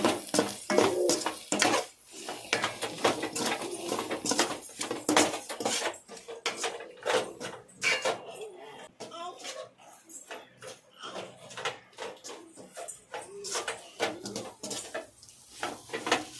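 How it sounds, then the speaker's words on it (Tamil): Spatula stirring egg rice with salt and masala in a pan, with steady scraping and clinking strokes against the metal, close and fairly loud, continuing without pause. "இப்போ நான் எல்லாத்தையும் வணக்கி விட்டுக்கலாம்"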